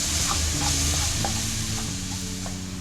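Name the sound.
onions frying in oil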